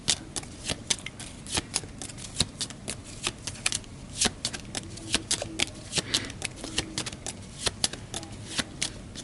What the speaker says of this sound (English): Would help if I shuffle it the right way.